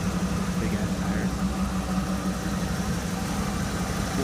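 A Ford truck with a 460 big block V8 and exhaust stacks idles with a steady, loud, deep rumble that holds without a break from start to finish.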